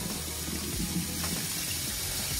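Tap water runs steadily onto frozen toy surprise eggs, a continuous close hiss and splash with no voices.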